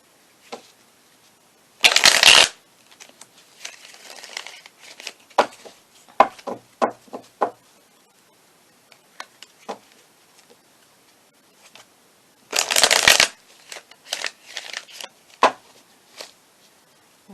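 Tarot cards being shuffled close by in two loud riffle bursts, each about half a second long, well apart, with quieter taps and card handling between them and no talk.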